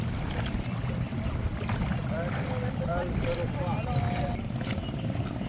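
A small rented motor boat in Thailand hums steadily on the water with wind noise, while people talk nearby.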